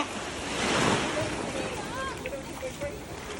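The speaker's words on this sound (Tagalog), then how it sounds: "Huwag sana malakas yung alon" Ocean waves surge and break against a rocky shore in Barbados, a broad steady wash with wind buffeting the microphone, while people nearby exclaim and talk.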